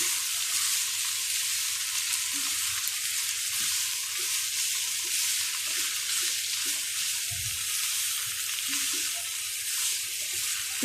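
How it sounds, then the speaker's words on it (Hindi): Onions and tomatoes fry in a pan with a steady, close sizzle, with soft stirring scrapes and small pops over it and no voices. "इनको थोड़ा सा भून के मैं हल्के से दम पे रख दूँगी"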